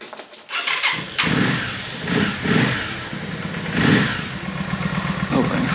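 A Yamaha Virago 535 motorcycle engine cranks and fires up, then runs with an uneven throbbing idle and a few blips of revving, loud and close.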